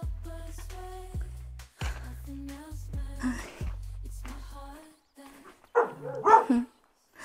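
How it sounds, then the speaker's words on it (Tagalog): Hunting dogs barking at a forest house in Russia: a series of repeated, fairly close barks, with people talking between and over them. "Mga hunting dogs ni Papa Kolya. Ayan, nag-iingay na kasi."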